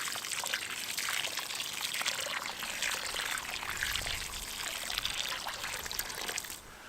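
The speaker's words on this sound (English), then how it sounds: "So the last thing is to give this tree a good drink." Water pours steadily onto the soil around a newly planted tree in autumn, a continuous close splashing trickle that runs unbroken for several seconds before easing off at the end.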